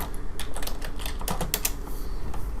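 Rapid typing on a computer keyboard, a quick uneven run of close, crisp key taps with no talking.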